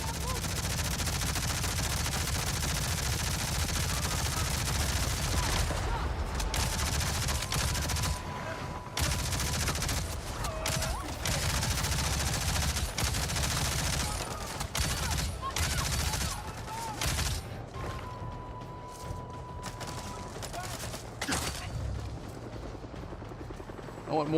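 Sustained gunfire from the Avatar Frontiers of Pandora game, aimed at aircraft, rattles in rapid bursts over a droning rotor-like engine hum, loud and continuous with brief pauses, while a voice speaks over it.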